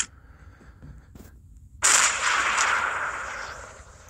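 A sniper rifle shot in the Hunting Sniper video game, one sudden loud crack followed by a long, decaying echoing tail, heard alone.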